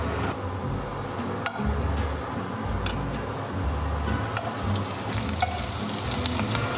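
Oil sizzles and crackles steadily in a hot pan as prawns cook with spices, a loud, continuous frying hiss with occasional stirring scrapes and pops close by.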